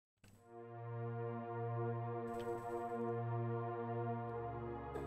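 A Spitfire Labs pad sound layered with a string ensemble swells in softly and holds a sustained, bright chord with a slow pulsing throb, fairly quiet and with no talking.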